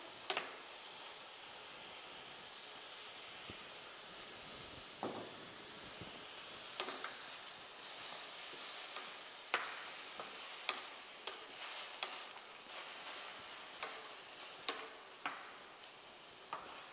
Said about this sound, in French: On les fait revenir.